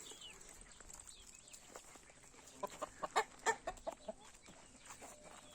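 Backyard chickens and roosters cluck in a few short, bright bursts at a distance, faint over a low background hiss.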